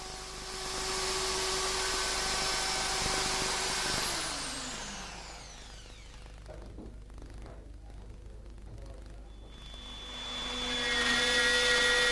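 A router fitted with two fences and a core box cutter fluting a wooden column, its high motor whine running steadily at first, then spinning down and falling quieter before revving back up loud near the end.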